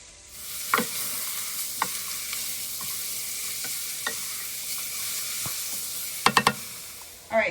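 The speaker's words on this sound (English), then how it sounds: "I'm gonna go ahead and I'm gonna add mushrooms to the pan" Mushrooms, four boxes of mixed kinds, fry in a pan for a vegan risotto with a steady close sizzle, broken by a handful of sharp utensil knocks and scrapes as they are stirred.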